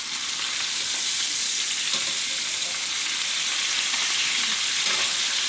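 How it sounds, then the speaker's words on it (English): A sous vide duck breast sears in a pan with a loud, continuous, close-up sizzle that holds at an even level throughout, with only faint stirring or shifting sounds and no voices. "Actually, we're gonna let this sear a little bit longer."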